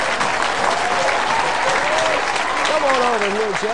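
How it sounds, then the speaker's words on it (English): An audience applauds loudly and steadily throughout to welcome Jay Arias on stage with an improv group at the Myrtle Beach Mall, while a voice speaks over the clapping. "How about a big round of applause and a big welcome for Jay"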